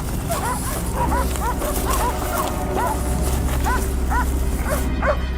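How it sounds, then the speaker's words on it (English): Dogs give repeated short yips and barks, some whimpering, in a close, busy series over a constant low rumble, having cornered an injured wild boar. "The dogs barked again, louder and more urgent than usual."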